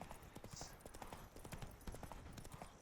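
Horse hooves clip-clopping steadily while riding through hilly terrain in The Witcher 3, a brisk, regular trotting rhythm heard faintly and continuously.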